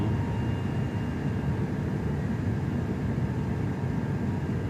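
Engines of an iniBuilds A330-300PF freighter in Microsoft Flight Simulator 2024 give a steady, unbroken low drone and hum that holds an even loudness throughout, with no voices.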